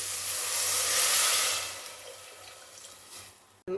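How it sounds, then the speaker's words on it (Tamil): Water pours steadily into a cooking pot for one-pot rice and lentil rice, a bright splashing rush that slowly tapers off, ending with a short clunk. "நாலு டம்ளர் தண்ணி ஊற்றுவோம் நான் இப்போ வந்து மூன்று டம்ளர் ஊற்றுறேன்"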